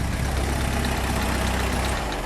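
A 1987 Alfa Romeo Spider Quadrifoglio with fuel injection idles close by, its engine giving a steady, dense, even rumble throughout with no talking.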